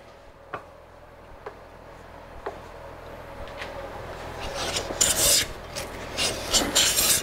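A hand plane works across a wooden board while a drawer is being made: a few faint, sparse taps come first, then a run of soft, close rasping strokes as shavings come off near the end.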